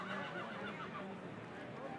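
A young racehorse in a paddock lets out repeated whinnying calls over a constant wash of background noise.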